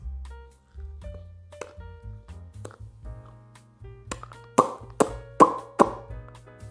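A series of wet lip pops, a few soft ones early then several sharp, close plops in quick succession toward the end, over a low hum.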